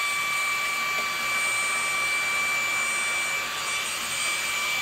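A Simplicity S65 stick vacuum runs on high speed, giving a steady, loud motor whine with a constant high-pitched hum and no breaks.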